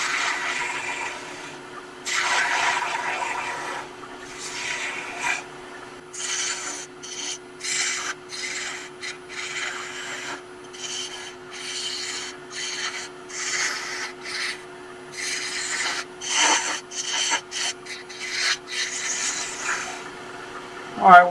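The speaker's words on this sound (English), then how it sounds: "we're going to sand this up a little bit" Turned wood jar lid sanded on a spinning lathe, bursts of rough rasping friction over a steady motor hum, close and uneven in rhythm.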